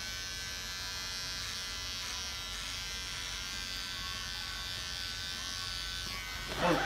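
An electric hair clipper buzzes steadily and close while cutting a short buzz cut at home, a continuous even drone with a brief rustle of handling at the end.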